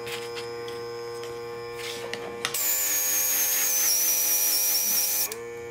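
A cheap nail airbrush starts up over a steady electrical hum, giving a high, even hiss and whine for about three seconds before it cuts off abruptly, close and with no talking.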